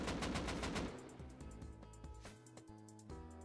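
Gunfire in the video game Rust, with bullets striking a wall: a fast burst of rapid, evenly spaced shots at the start, followed by a few scattered impacts and clanks, moderately loud with no talking.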